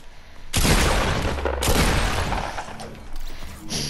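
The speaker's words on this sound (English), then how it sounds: "I just double pumped this guy. I I shot him." Two loud pump shotgun blasts in a duos battle royale shooter game, about a second apart, each a sharp booming crack with a long roaring tail, followed by lighter mechanical clatter and softer gameplay noise.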